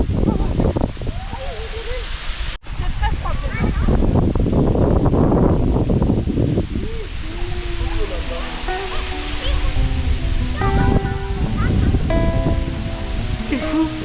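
A waterfall cascades with a constant, loud, close rush of falling water and broadband roar. Voices talk over the roar throughout.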